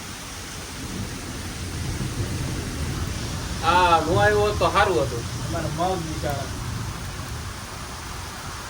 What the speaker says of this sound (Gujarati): મિત્રો વરસાદ ફૂલે ફૂલ વધી ગયો છે.